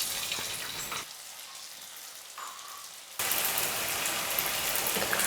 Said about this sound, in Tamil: இப்போ ரெடி பண்ணி வச்சுருக்கிற பாஸ்தாவை கொஞ்சம் கொஞ்சமாக எடுத்து எண்ணெயில் போட்டு நல்லா கிறிஸ்பியாக வர வரைக்கும் நம்ம ஃப்ரை பண்ணி